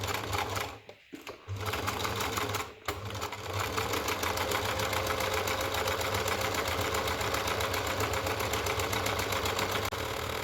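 A sewing machine stitches around the edge of fabric for a French seam on a joey pouch for injured wildlife, running steadily with a rapid mechanical whir after a couple of brief pauses near the start.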